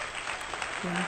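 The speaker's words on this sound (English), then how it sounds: "Can we get a round of applause" Audience applause at a cat show, a brief, dense burst of clapping filling the room, with a voice briefly speaking over it.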